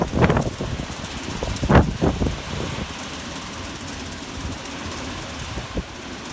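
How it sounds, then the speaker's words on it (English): Strong hurricane winds from Hurricane Maria roar steadily across Martinique, with loud gusts and buffeting bursts in the first seconds that settle into a constant rushing noise. "now the winds are really getting stronger again"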